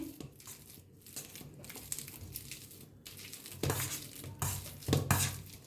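Ripe bananas being mashed for a sweet recipe, soft squishing and scraping in a bowl with faint clinks, quiet and close, growing stronger toward the end.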